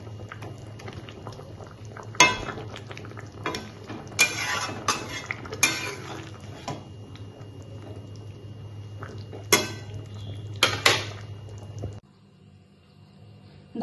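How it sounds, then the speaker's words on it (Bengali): Fish curry with potatoes, green chillies and coriander simmers in a pot with a steady low bubbling hum, broken by several loud clanks and scrapes of a utensil against the vessel before the sound cuts to near silence. "4টে কাঁচা লঙ্কা আর ধনেপাতা দিয়ে আর কিছুক্ষণ ফুটিয়ে নামিয়ে ফেলবো।"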